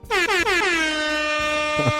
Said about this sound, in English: I got to go ahead and give you some air horns for all of that